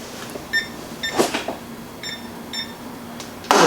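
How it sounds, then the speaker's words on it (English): A small timer gives several short, high electronic beeps in pairs as it is being set, fairly close, with soft handling clicks and a thump near the end and no talking. "Let me put my little timer on."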